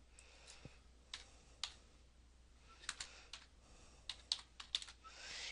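Someone types on a computer keyboard at a desk, producing sparse, quiet key clicks in small irregular clusters that stand out against faint background hum, with no talking.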